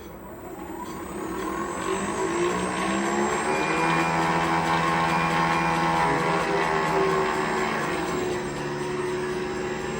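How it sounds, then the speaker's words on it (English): A vehicle fitted with a 13-24 series battery management system pulls away in drive. Its whine climbs steadily in pitch as it accelerates, a smooth rising tone that holds near and fairly loud for several seconds without speech. "I go to D gear, and I press the accelerator."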